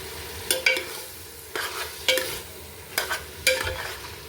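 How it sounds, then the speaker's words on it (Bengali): Meat for Kabuli pulao fries in a pot, with several distinct rhythmic scrapes of a spoon stirring through it over a low sizzle, close and clear with no talking. "নেড়ে চেড়ে মাংসটা হওয়াবো"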